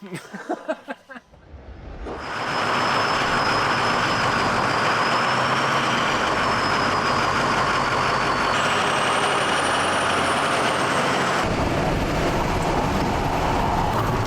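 Trucks and a squarebody-swapped tank driving on the road to a car show, a loud steady roar of engines and tires that rises after a brief lull and continues throughout, with passing traffic noise.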